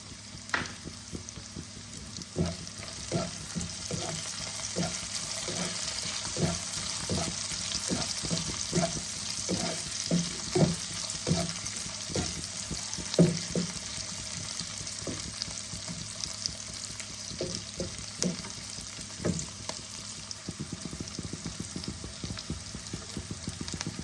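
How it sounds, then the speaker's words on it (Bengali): Cauliflower and fish head fry in a covered pan, giving a steady close sizzle with repeated soft stirring scrapes and clinks running through it, no voices. "ঢাকা দিয়ে দিয়ে আমি ভেজে নেব।"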